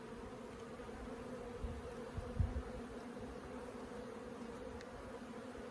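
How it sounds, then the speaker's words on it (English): Honey bees fly around an open backyard hive in a continuous low buzzing drone, with a few louder passes close by and no voices. "Lots of bees flying."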